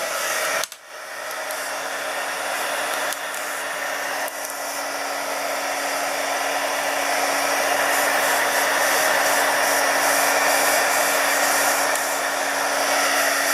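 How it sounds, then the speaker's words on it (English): Heat gun melting wax over an image on a candle, a steady loud blowing whir with a constant tonal hum that runs unbroken, close and alone, with no voices. "Keep your heat gun moving."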